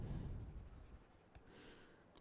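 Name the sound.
writing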